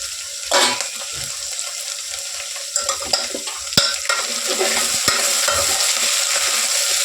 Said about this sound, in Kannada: ಇದೊಂದು ಸ್ವಲ್ಪ ಎಣ್ಣೆಲಿ ಫ್ರೈ ಆಗಲಿ.